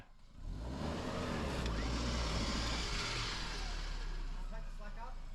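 A Suzuki Jimny crawls over a tree root off-road, its engine a steady low rumble that rises slightly and holds at a constant strain, with voices talking over it.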